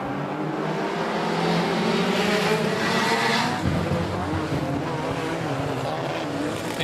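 Border stock cars roar off at the start of a race, a dense, loud wall of engine noise that swells as the pack accelerates, with a commentator's voice underneath.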